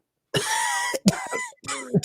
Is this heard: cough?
yes